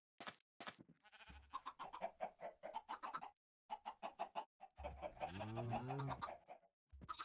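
Chickens in the Minecraft video game cluck in short, close bursts, with a few clearer squawks near the end.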